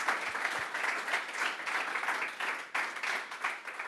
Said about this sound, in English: Big round of applause for this cool concept.